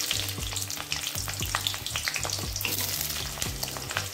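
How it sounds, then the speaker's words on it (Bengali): Chopped onion dropped into hot oil already seasoned with a bay leaf and whole garam masala, sizzling and crackling steadily up close with stirring scrapes throughout, no voices. "এবার দিয়ে দেব কেটে রাখা পেঁয়াজ"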